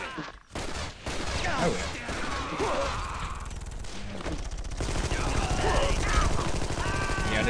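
Repeated gunfire bursts from Armed & Dangerous, a sniper fight in the game, crackling steadily under loud game action as a voice briefly talks over it.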